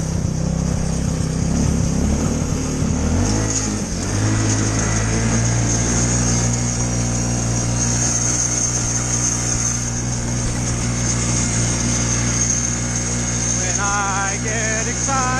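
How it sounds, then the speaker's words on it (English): A Yerf Dog go-kart engine drones loudly and steadily with a rough, grinding gearbox underneath, a continuous close-up mechanical whine with voices talking over it. "oh that gearbox sounds horrible"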